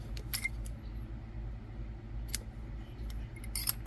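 Scissors cut embroidery floss during a crochet project, giving a few small, faint snips spread apart over a quiet background.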